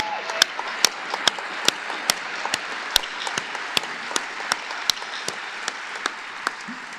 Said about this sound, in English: Let's give all of this year's award winners one more big round of applause